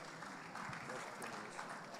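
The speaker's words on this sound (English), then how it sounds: "Round of applause for Dr." Audience applause at an international conference annual general meeting, a faint, steady patter of clapping across a large hall that lasts the full moment, with no voices over it.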